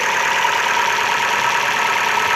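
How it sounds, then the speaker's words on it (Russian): An Opel Astra H with the Z16XEP petrol engine idling, a steady, even mechanical hum heard close and fairly loud, with no knocking bursts and no voices. "Мотор работает ровно, тихо."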